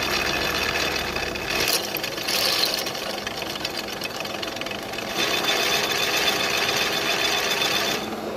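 A drill bores 10.5 mm holes in a steel jig, making a harsh, continuous rattling machine noise that swells and eases a few times, close and loud, with no speech.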